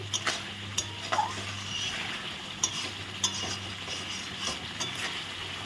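Spices for an eggplant curry are stir-fried in a pan, with irregular metallic scrapes and clinks of a spatula over a soft, continuous sizzle, heard up close.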